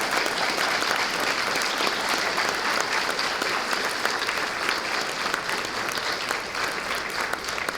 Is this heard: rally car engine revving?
no